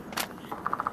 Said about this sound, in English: FAMAS reloads.